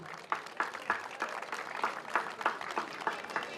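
Scattered applause from a small carnival crowd for a local society at a village Shrovetide festival, a thin, uneven patter of individual claps at moderate distance.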